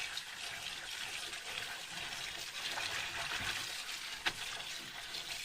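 Water runs from a kitchen tap while spinach is rinsed in a sink, a continuous splashing trickle with one brief sharp clatter near the end, moderately quiet and without talk.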